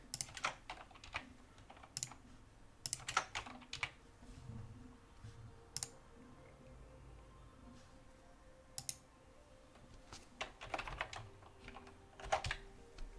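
A computer keyboard is typed on in quick, irregular bursts of clicks and clacks, fairly quiet and close, with short pauses between runs of keystrokes.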